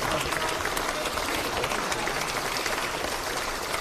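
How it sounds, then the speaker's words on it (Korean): A crowd of lawmakers at a People Power Party general meeting claps steadily for several seconds, a thick, even wash of many hands at close to moderate distance with little talk. "박수 한 번"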